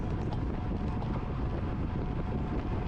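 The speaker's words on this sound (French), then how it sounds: "On n'a pas vent favorable dans cette partie. On a vraiment le vent de côté." Steady crosswind buffeting a microphone during a bike race near Brugelette, with riders going over 50 km/h; a dense, continuous low roar fills the whole stretch without letup.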